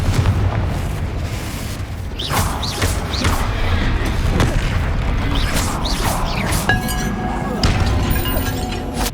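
Repeated Confringo fire-spell blasts in Hogwarts Legacy, a steady stream of booming, crackling explosions and shattering hits spread across the stretch, with a voice calling out spells between them.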